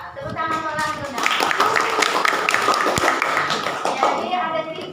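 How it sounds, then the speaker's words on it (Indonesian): A school class claps for a classmate named Lando, a dense burst of hand claps that swells after a brief spoken lead-in and carries on under a teacher's voice. "Tepuk tangan untuk Lando nah."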